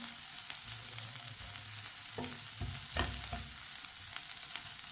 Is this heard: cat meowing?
no